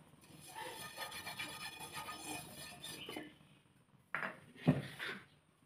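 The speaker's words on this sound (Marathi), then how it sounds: "तवा तापवून घेतलेला आहे। आता त्याला तेल लावूया।" Oil being rubbed across a hot griddle for amboli, a soft scraping rasp for about three seconds, then a pause and a few sharper clinks and scrapes of utensils on the metal pan.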